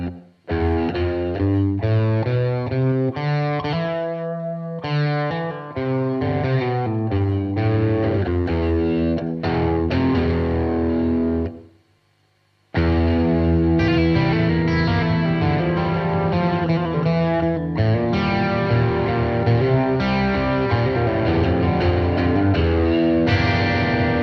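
Heavily distorted electric guitar plays a riff in E Phrygian, a minor mode with a flat second, loud and continuous with echo and chorus effects, broken by a brief gap of silence midway.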